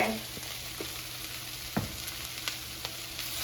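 Ground turkey with chili powder is stirred in a frying pan for fajitas: a continuous close sizzle broken by several sharp spatula scrapes and taps spaced irregularly across the clip.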